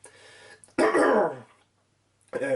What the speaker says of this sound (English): Sorry about the cough again.